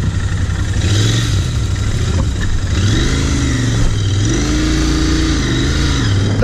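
A Royal Enfield Interceptor 650cc twin-cylinder motorcycle on a test drive, its engine loud and close, rising and falling in repeated throttle blips and revs over a constant gritty road and wind roar, with no talk.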